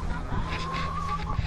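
Backyard chickens clucking close by near compost bins in Central Oregon, a short burst of soft, throaty clucks over steady background noise.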